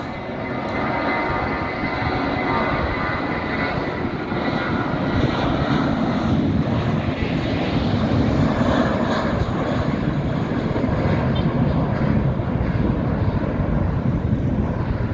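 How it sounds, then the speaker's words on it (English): A British Airways jet takes off from Gibraltar, bound for Heathrow: a steady, loud engine roar with broadband rumble that holds for the whole stretch, no voices over it. "We've got British Airways flight taking off and going back to Heathrow."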